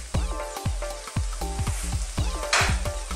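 Shrimp stir-fried in a pan for halabos na hipon sizzles loudly up close while a utensil clanks and scrapes in a quick, repeated stirring rhythm, with no talking.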